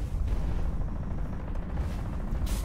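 A spike cannon fires in the Hawken mech video game, a dense, continuous barrage of heavy booming blasts with a sharp burst near the end.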